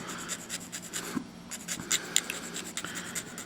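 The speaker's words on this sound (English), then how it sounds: "So I'm gonna take a regular file." A hand file works over a Gunpla plastic model part to remove leftover residue, giving a series of short, close scratchy rasps in an uneven rhythm, quiet and with no voices.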